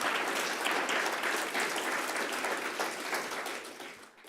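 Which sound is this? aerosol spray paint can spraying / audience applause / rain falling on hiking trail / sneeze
audience applause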